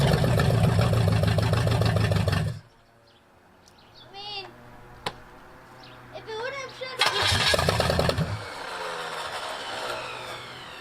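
An abandoned Pontiac 400 V8 cranks and fires, roaring loudly for a couple of seconds, dropping to quiet with faint chirps and clicks, then catching again in a second loud burst before fading.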